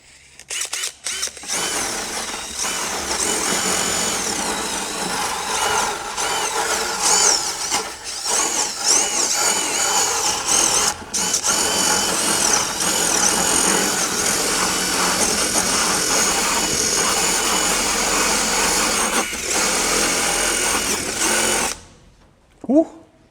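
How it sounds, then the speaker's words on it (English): A power drill fitted with a wire brush attachment scrubs at an old 150-year-old wooden front door, a loud continuous whirring grind that runs almost nonstop with brief pauses, then cuts off near the end. "just went and got a little brush from my drill to see if we can't clean it up a bit more"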